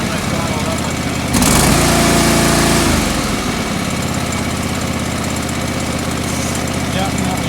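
A John Deere 445 lawn tractor engine running rich is briefly throttled up into a louder, higher roar, then drops back to a steady idle nearby, with a voice talking over it.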